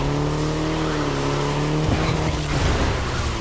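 A car in the driving game The Crew Motorfest roars at high revs, its engine tone dropping as the tires squeal and skid, loud and close throughout.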